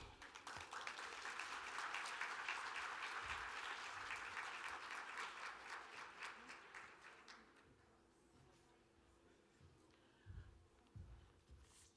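A summit audience applauds to welcome a speaker on stage: a dense, steady wash of many hands clapping that holds for several seconds, then thins and fades out, leaving a few scattered claps and faint room noise.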